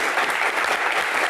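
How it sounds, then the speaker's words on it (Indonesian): Audience applause at an indoor anniversary event for Jakarta, a dense, loud wash of many hands clapping continuously, with no voices over it. "Kita berikan tepuk tangan yang paling meriah untuk Sutioso."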